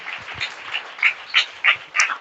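A congregation claps during a Tamil church sermon, with a brief run of sharp, irregular hand claps at moderate distance and no speech over them.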